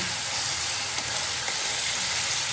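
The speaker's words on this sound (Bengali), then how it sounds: "এই তো গোস্ত রান্নার জন্য পেঁয়াজ মশলা বেরেস্তা করে নিচ্ছি।" Onions and spices frying in a pan for a meat dish, a constant dense hiss and sizzle, steady and close with no breaks and no voices.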